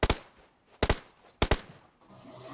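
Gunfire from a battle royale shooter: three sharp, loud double-shot bursts spaced about 0.7 seconds apart, each decaying fast, with a faint rushing ambience following, no talk.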